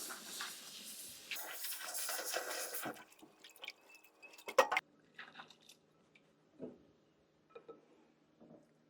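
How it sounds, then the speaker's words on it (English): Corn kernels are swirled with water in a colander to rinse them for homemade corn tortillas, starting with a steady splash and rush of water, then a quieter stretch of scattered drips, trickles and soft clinks nearby, with no talk. "As I'm swirling this around in my colander, that's also helping remove any debris."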